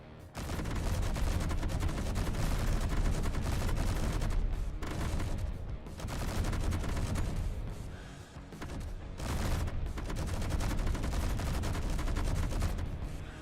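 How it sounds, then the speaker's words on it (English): An anti-aircraft turret fires in the online shooter Sonora: long, dense streams of rapid, booming shots with only a few brief breaks, loud and continuous throughout. "I built an AA turret, and I discovered that it's actually an anti-everything turret."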